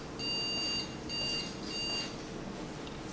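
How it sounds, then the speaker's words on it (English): A few high electronic beeps in short bursts, three pulses in a row, from a computer at first boot, over a low background hum, then they stop. "We're getting some beeps."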